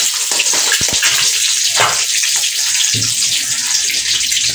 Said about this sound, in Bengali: ডিম ভাজা হচ্ছে।